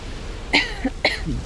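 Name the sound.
cough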